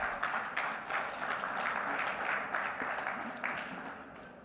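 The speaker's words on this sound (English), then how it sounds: "Big round of applause for Mr. Niels de Bruijn." An audience at a maritime industry conference applauds a panelist, with sustained, moderately distant clapping from a crowd in a large hall that swells and then slowly fades.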